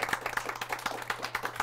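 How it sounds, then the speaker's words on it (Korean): An audience at a live author talk for a book forum claps briefly, a quick run of close, rhythmic hand claps that is fairly soft overall. "박수 소리 크고 좋습니다"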